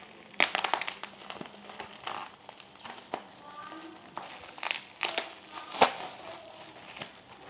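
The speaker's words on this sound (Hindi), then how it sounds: "दोस्तों, इसमें ये पॉलीथीन जैसा निकलता है।" Polythene wrapping crinkles and crackles nearby as a digital watch with a stopwatch timer is unboxed, with irregular rustling bursts and sharp crackles spread throughout and quiet background in between.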